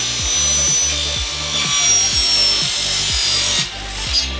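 A saw cutting a PVC gate brace at an angle, with a loud, close run of steady back-and-forth strokes in a fast, even rhythm and no voices.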